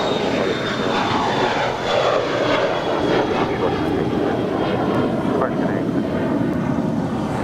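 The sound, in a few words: Lufthansa Boeing 747 aircraft taxiing at LAX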